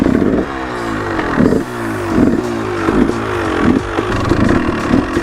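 A motorcycle engine warming up sounds close and loud, with a steady idle broken by a series of short revs spaced about a second apart, along with some mechanical clatter.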